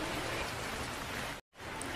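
Steady, dense rain hisses evenly throughout, with a brief moment of silence near the end before the downpour resumes.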